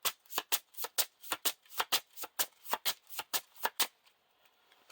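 Playing cards shuffled by hand during a card game, a quick riffle of crisp, evenly spaced flicks for about four seconds, close and clear, then trailing off into quiet.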